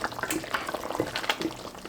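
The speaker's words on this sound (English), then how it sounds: "you can add some more water or chicken broth" Water is poured into a pot of simmering Mughlai beef curry with potatoes, giving close splashing, bubbling and liquid gurgles with no talk.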